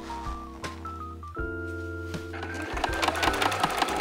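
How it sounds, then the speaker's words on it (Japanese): A sewing machine stitches fabric in short starts and stops, its motor whirring up and down close by, with a faint background tone and no speech. "ミシンで縫っていきます。"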